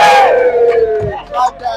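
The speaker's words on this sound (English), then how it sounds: "round of applause for them" Campus crowd at a university freestyle event cheering and yelling, loud close whoops and shouts with a rising and falling voice over babble, brief and energetic.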